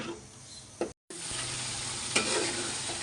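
Masala paste sizzling and frying in a pan while crab is being cooked, with steady close hiss and a few stirring scrapes, broken by a brief silent gap near the middle.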